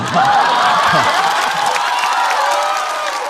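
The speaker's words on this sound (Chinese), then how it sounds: "掌声非常的热烈啊。" Audience at a stand-up comedy show breaking into warm, sustained applause and cheering, loud and dense, with a few whoops and laughter mixed in.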